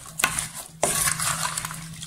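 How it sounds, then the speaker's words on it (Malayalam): A spoon scrapes and knocks around a pot while sambar ingredients with salt and turmeric are mixed, two sharp clanks followed by steady rough stirring close up. "പിന്നെ ഒരു നുള്ളു മഞ്ഞൾ അതും ഇട്ട് ഇനി ഇതെല്ലാം കൂടി ഇളക്കി യോജിപ്പിക്കണം"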